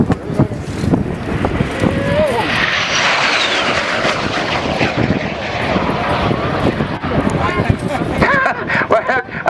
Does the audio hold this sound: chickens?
no